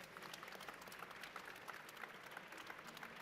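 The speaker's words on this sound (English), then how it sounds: "Can we have a round of applause for the panelists?" An audience at an education conference in London gives the panelists a round of applause, a fairly faint, distant, steady wash of many hands clapping with no voices on top.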